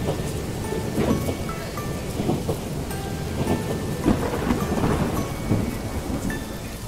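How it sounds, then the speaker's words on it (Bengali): Steady rain and rolling thunder from a storm ambience website, a dense continuous wash of rainfall with repeated low rumbles swelling through it, loud and unbroken with no voices. "বৃষ্টির পাশাপাশি যদি বজ্রপাত শুনতে চাই আমরা তাও শুনতে পারবো"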